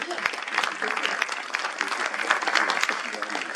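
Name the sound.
applause for Pierre Liézou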